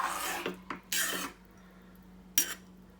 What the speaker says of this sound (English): So when you're stirring, just stir it from the bottom.